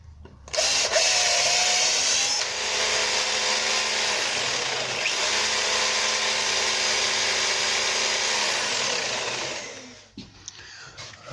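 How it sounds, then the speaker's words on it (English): A power drill bores into a red brick wall in one long, loud, steady grinding whine lasting about nine seconds, close by, then winds down and stops. "So I just drilled that."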